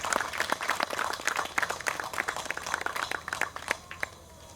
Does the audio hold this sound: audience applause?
yes